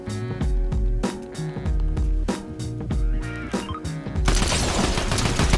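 Gunfire rattles through a Fortnite Zero Build match, bursts of shots layered over loud game music, ending in a denser roaring volley.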